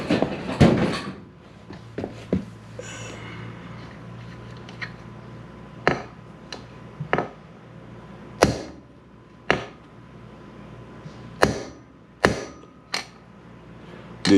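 A bearing being seated during a Polini scooter bottom end rebuild, heard as a series of sharp, isolated metallic taps and clicks spaced a second or two apart, close by in a quiet workshop.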